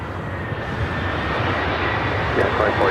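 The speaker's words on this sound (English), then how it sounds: "Be followed by United Airlines Flight 2487, coming in from Las Vegas on a 737-800." United Airlines Boeing 737-800 landing from Las Vegas at LAX, a steady engine roar with a faint high whine building slightly, while a voice talks over it.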